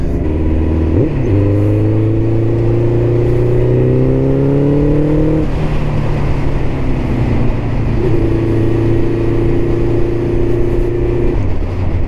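A car engine, freshly fitted with new gaskets and an oil filter, runs loud and close, its drone rising and falling through several rev changes with a steady throttled hum in between and no talking.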